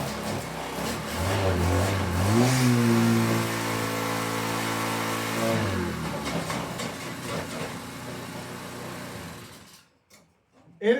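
Small Honda tiller engine starting and running, a steady mid-pitched putter that revs up, holds a fairly loud even idle for several seconds, then dies away abruptly near the end.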